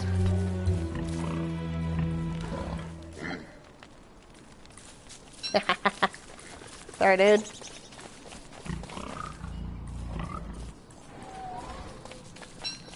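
Pigs grunting in the game Don't Starve, a few short snorting bursts in quick succession midway, moderately loud, with footsteps and game sounds around them and a person talking before and after.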